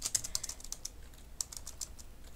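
Rapid typing on a computer keyboard, a quick run of light key clicks in uneven bursts, close to the microphone and alone with no talk.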